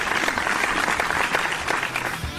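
Clapping from a stream audience in gratitude for donations and nicknames, a steady dense patter of many hands continuing throughout at fairly even loudness.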